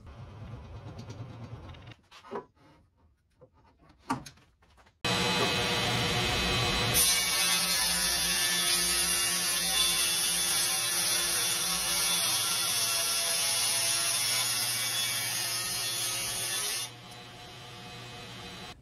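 A Grizzly 10-inch 2 HP hybrid table saw with a dull 60-tooth blade runs up with a loud whine and grinds through stacked ipe hardwood boards, 1.5 inches thick, in one sustained cut after a few quiet handling knocks.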